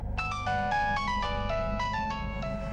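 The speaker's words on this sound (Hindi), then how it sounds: "टीनू का फोन।" A phone ringtone plays a bright, repeating electronic melody of quick chiming notes, loud and close, with no talking.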